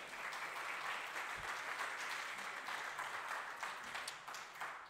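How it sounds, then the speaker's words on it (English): A talk audience at a font design presentation gives a round of applause: a dense, steady wash of many hands clapping, moderately distant and sustained without break, with no voices over it. "give them a round of applause"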